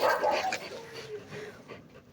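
Two dogs, Oscar and Emma, bark and whimper close by in a brief excited burst of yips and whines that trails off into softer whimpering.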